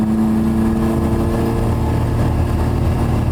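An old truck's engine with an upgraded throttle body drones steadily while driving, a loud, continuous low hum with a sustained tone, alone and without talk.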